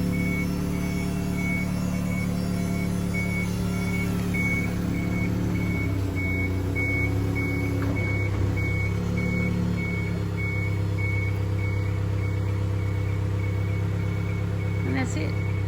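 The wheelchair lift on a 2012 Toyota Hiace Welcab retracts with a steady run of regular electronic beeps over the idling van engine, with a low mechanical hum beneath.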